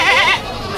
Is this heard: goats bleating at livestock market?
yes